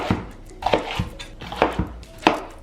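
Green peppers being cut into chunks on a kitchen board, a handful of close, irregular knife knocks and clatters against the board.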